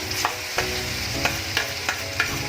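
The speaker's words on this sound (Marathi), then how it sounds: "आपलं तेल तापलं आहे मिरची टाकून बघितली त्याच्यात आपण हे चांगलं परतून घेऊया" Green chilies and peanuts fried in hot oil and stirred, giving a loud, constant sizzle with regular scraping strokes of a spatula against the pan about twice a second.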